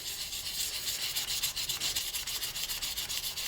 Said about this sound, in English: I'm going to take 600 grit wet sandpaper and I'm going to sand those ridges out